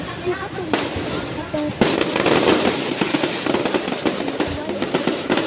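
Fireworks at a plaza display in Ormoc City crack and pop in rapid bursts with sharp bangs, while people talk and shout nearby over the noisy crowd.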